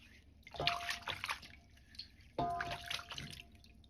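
Chinese yam is washed by hand in water to clear surface mud, giving two close bursts of splashing and sloshing with dripping in between, no talk.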